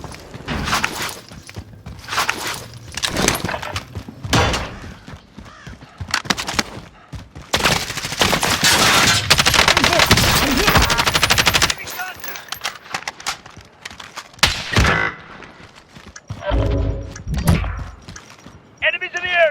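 Gunfire in Call of Duty Warzone, loud repeated bursts and single shots with a dense sustained volley in the middle, mixed with footsteps and in-game voice callouts.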